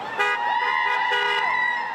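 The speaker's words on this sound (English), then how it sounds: "Grayson County educators rallying for a pay increase with signs in hands and honks of support." Car horns honking in support as educators rally along a town's main street for a pay increase, several overlapping toots over a steady crowd and traffic background.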